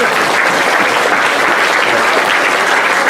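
Sustained clapping from an audience at a Norfolk dialect show, a dense, even wash of many hands that stays loud and steady throughout without letting up.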